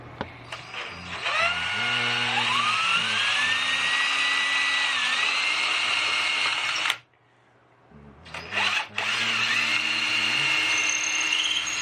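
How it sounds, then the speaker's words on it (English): A power drill bores a wire channel through a Les Paul Custom guitar body, its whining motor rising and falling in pitch as it cuts, stopping for about a second midway, then starting up again and running on. "I decided that we should probably go ahead and drill our wire path"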